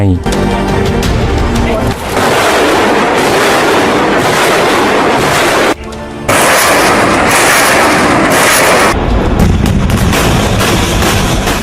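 Military multiple rocket launcher of the Thai army firing, a loud sustained roar of rapid launches and blasts that fills the whole stretch with only a brief dip midway.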